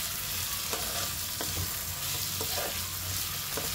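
Tiger prawns fry in a hot pan, giving a continuous loud sizzle with a few soft scrapes and knocks as they are stirred.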